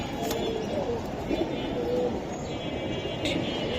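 Silver Giribaz racing pigeons coo softly amid a busy, noisy background of a bird market, with a few low calls rising briefly over the steady din.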